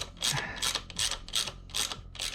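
A wrench ratchets a guard bolt tight on a Yamaha TTR 230 dirt bike, six even clicking strokes about half a second apart, close and crisp over a quiet background.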